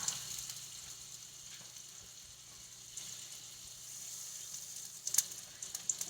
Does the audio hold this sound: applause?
no